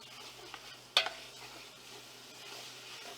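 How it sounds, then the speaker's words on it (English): Meat browns in a pot for homemade spaghetti sauce, giving a faint, steady sizzle with one sharp clink of a utensil near the start, and no voices. "Let y'all see we are almost done browning this off."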